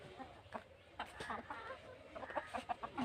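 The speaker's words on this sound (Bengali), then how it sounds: "দেখো আমার কতগুলো মুরগি চলে এসছে আমার কাছে।" Chickens cluck in short bursts close by as they gather to be fed chopped kohlrabi leaves, with a person talking over them.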